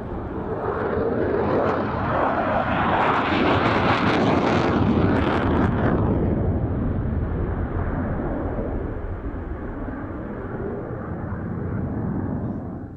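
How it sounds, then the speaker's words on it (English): A Belgian Air Force F-16 fighter jet roars past in full reheat, a loud, sustained broadband blast that swells and then eases over thirteen seconds, with wind buffeting the microphone. "the aircraft is probably accelerating from 180 knots in full reheat"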